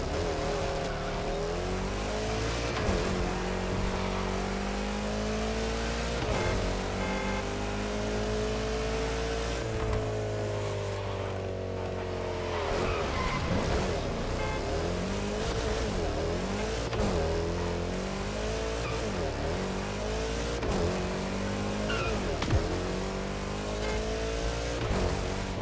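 A car races in The Crew Motorfest with a loud, steady engine drone that rises and falls as it revs, with brief tyre squeals mixed in and no talk.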